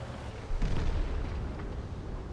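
Artillery shell impact in a World of Tanks–style battle game: a single dull boom strikes about half a second in, then a rumbling tail sits under steady background battle noise, with no talk.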